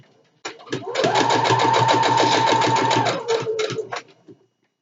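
A sewing machine stitching a satin pillowcase runs steadily for about three seconds with a rapid mechanical stitching rhythm, starting and stopping abruptly, close and fairly loud.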